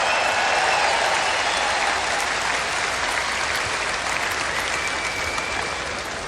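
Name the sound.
convention crowd applause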